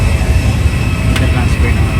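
Airliner touching down at Boracay's Caticlan airport, heard from inside the cabin as a loud, steady low engine and rumble roar with brief rattles, no talking.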